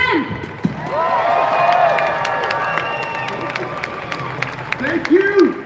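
A protest crowd outdoors claps and cheers, a loud wash of applause with whoops and shouts rising and falling, while a speaker's voice carries over it.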